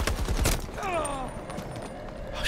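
Shotgun blasts in Battlefield 2042 ring out amid other gunfire and game noise, a sharp report at the start followed by rapid shots and a descending mechanical whine.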